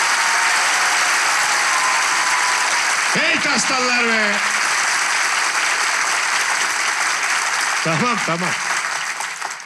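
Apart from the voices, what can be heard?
audience applause at the start of a show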